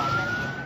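A wailing emergency siren, tied to ambulances responding after a Singapore Airlines flight hit severe turbulence and made an emergency landing in Bangkok, sounds steady and fairly loud amid road noise.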